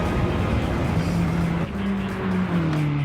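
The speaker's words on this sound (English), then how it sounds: "As you can hear the acceleration to stutter because the front wheels are spinning way too much more than it should." A front-wheel-drive car in Gran Turismo 7 accelerates with its engine note rising and stuttering as the front wheels spin, a loud continuous drone with wavering pitch.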